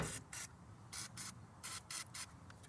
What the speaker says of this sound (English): And I spray with PB Blaster.